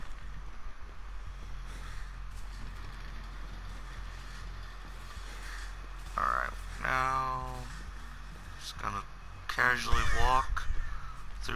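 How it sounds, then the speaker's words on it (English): Crows caw in Dead by Daylight, sounding a few harsh, croaky calls in quick clusters over a low ambient hum. "Forget you, crows."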